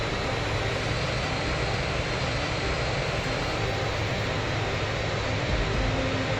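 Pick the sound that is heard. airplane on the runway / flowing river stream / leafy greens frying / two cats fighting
airplane on the runway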